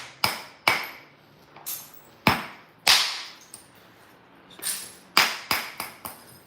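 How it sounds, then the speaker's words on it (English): Flint knapping with a copper bopper: sharp, ringing strikes on stone, about a dozen in irregular bursts, each a crisp crack with a short decaying ring, close up and without talk. "Anyways, what's he hitting with? Hitting with what's called a copper bopper."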